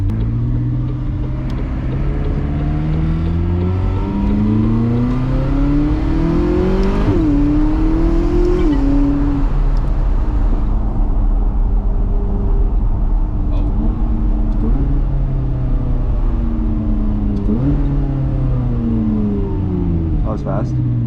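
A McLaren 570S engine revs and accelerates on a night drive, a loud steady roar with rising and falling gear sweeps, while people in the car talk over it.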